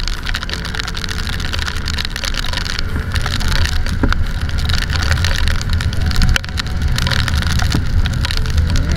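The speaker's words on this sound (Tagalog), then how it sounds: "lumalakas yung ulan" Steady, dense heavy rain in Baguio City, Philippines, patters without pause, a broad continuous hiss with occasional heavier thumps of drops close by.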